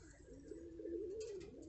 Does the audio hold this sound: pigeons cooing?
yes